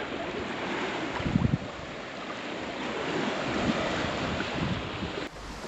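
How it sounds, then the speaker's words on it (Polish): Large ocean waves break and wash up on a beach on Praslin in the Seychelles, a steady loud roar of surf with wind buffeting the microphone, a heavier crash near the start. "Aczkolwiek bardzo duże fale."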